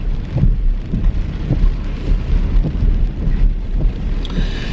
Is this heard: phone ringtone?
no